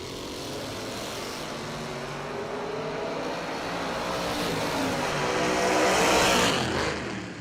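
Drag race cars, a Malibu and a buggy, launch at a bracket race with a broad engine roar. The sound swells from moderate to loud over several seconds, peaks, then begins to fade as they pull away.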